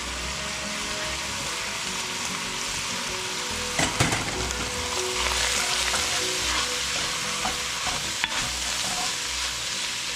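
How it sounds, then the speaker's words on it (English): Sausage and onions fry in a pot for a pizza soup, a steady close sizzle and crackle with occasional stirring scrapes and clanks, no talking. "we started browning up our sausage. We're going to put our onions in, Carolyn diced up for us."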